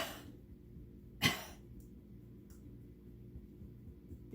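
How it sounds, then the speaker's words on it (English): A single short cough during a qi gong tapping exercise, one sharp burst standing out against a quiet room with faint background hum. "giving a cough to the earth"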